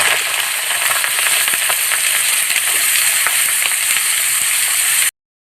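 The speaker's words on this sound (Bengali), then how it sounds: "আমরা চালতাটাকে একটু ভালোভাবে ভেজে নিব তেলটার সাথে" Chalta fruit frying in hot oil with ginger-garlic paste for a sweet-sour pickle, giving a steady, loud, dense sizzle with faint stirring clicks before it cuts off abruptly near the end.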